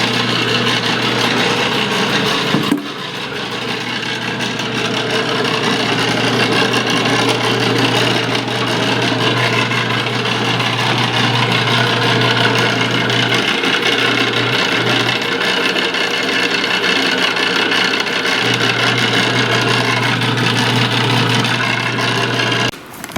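An antique Boice-Crane spindle sander runs continuously, a steady close mechanical motor hum with a low whine that holds level throughout, with a brief dip near the start and no talking.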